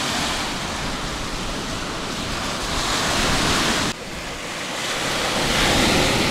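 Sea surf and strong, gusty wind on a beach at the Sedovo resort on the Azov coast, where brown, churned-up water meets the shore. A loud, steady roar of waves blends with buffeting wind noise on the microphone throughout, with no voices.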